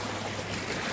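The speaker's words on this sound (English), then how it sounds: "Got some good current to it. Nice rapids." Rapids on the Guadalupe River rush in a steady, broadband wash of flowing water, moderately loud and unbroken, with no voices.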